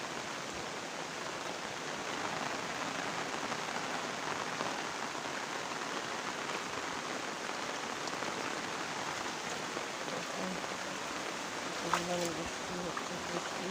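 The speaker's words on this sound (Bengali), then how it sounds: "বৃষ্টি হচ্ছে, বৃষ্টি" Heavy morning rain falling steadily, a dense, even hiss of drops on surfaces that runs unbroken, close and loud, with a faint brief clunk near the end.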